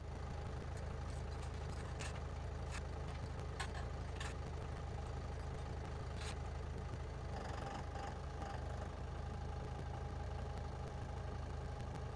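A steady low John Deere tractor engine idle rumbles continuously nearby, with faint intermittent clicks and knocks on top.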